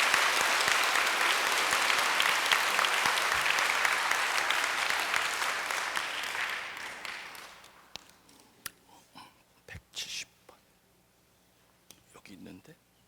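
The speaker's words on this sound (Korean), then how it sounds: "박수 치셔도 됩니다." Church congregation at a retreat applauding loudly and steadily for about seven seconds, then fading out to a quiet room with scattered small noises and rustling.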